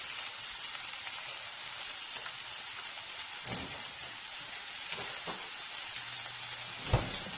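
Chicken cooking in a grill pan, a dense, even hiss of sizzling throughout with a few faint knocks and one louder tap near the end.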